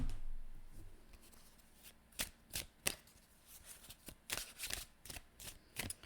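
Tarot cards being shuffled by hand: a quiet stretch at first, then a series of crisp riffling and slapping card bursts in uneven clusters, close and fairly soft, with no talk.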